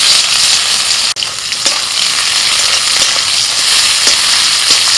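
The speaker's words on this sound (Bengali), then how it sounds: "পেঁয়াজ ভাজা হয়ে গেছে" Chopped onion frying loudly in oil with bay leaf, dried chilli and whole cumin, a dense close sizzle with a sharp click near the start and light stirring scrapes throughout, no speech.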